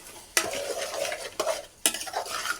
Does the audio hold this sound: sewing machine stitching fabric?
no